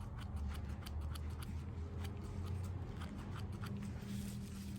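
Close, quiet snips cut away leftover squirrel hide between the eyes during skinning, a quick series of crisp clicks over a low background hum.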